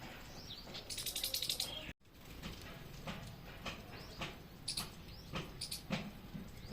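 Sparrows chirp in quick, high bursts against a steady outdoor hiss, with a few brief knocks and rustles in between.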